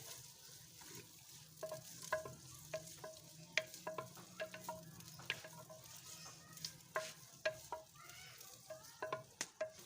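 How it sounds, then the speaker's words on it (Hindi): Chopped onions stirred and browned in oil in a pan for chicken korma: a steady low sizzle runs under frequent short scraping and clinking strokes of a spoon against the pan, close and fairly quiet, with no talking. "ये प्याज जो कटा है ये मिक्स करेंगे, ये हल्का सा ब्राउन करेंगे"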